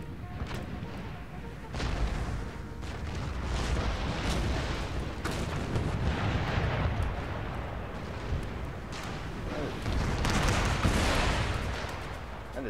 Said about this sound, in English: Everything's gonna fire except for the puckle guns.